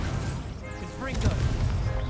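Confringo blasting spell cast in Hogwarts Legacy, a sudden crashing impact burst midway through a noisy duel, with thuds and clatter around it and voices in the background.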